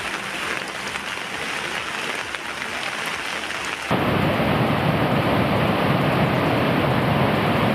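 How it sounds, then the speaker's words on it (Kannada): Heavy monsoon rain with thunder pours during flooding in Karnataka's Gadag district, a dense continuous roar of rainfall that abruptly grows louder and fuller halfway through and then stays steady, with no voices. "ಇನ್ನು ಭಾರಿ ಮಳೆಗೆ ಮನೆಗೆ ನೀರು ನುಗ್ಗಿ ಗುಡುಗು ಮಿಂಚು ಅಬ್ಬರಿಸ್ತಾ ಇವೆ."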